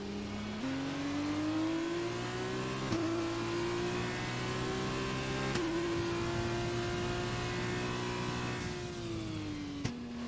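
An F2 car engine in F1 2020 holds a steady high rev as the car sits for the start at Austria, its pitch rising slightly and dipping at a couple of points, with a brief rise near the end.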